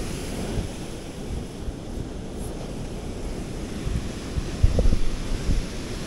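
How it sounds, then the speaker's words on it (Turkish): Large ocean waves roll and break on a Mexican beach, a constant rushing surf wash with wind buffeting and a slightly louder surge near the end. "Dalgalar çok iyi değil. Yani bayağı da büyük."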